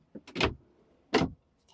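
Drawers in a new B-class RV, two short sliding thumps about a second apart, close and fairly quiet, with no talking.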